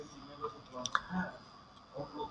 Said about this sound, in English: I'm clicking on Niloy Chaudhary